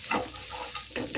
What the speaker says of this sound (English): So continue stirring just for some few seconds.